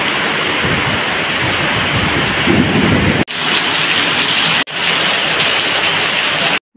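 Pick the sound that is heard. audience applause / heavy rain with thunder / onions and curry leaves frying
heavy rain with thunder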